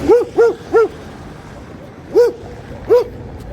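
A small dog gives sharp, high yips: three quick barks, a pause of over a second, then two more, close and loud.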